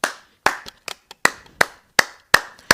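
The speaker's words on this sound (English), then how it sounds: "This is another round of applause." Sharp, separate hand claps, a handful spaced about half a second apart, sounding close and dry like one or two people clapping rather than a crowd.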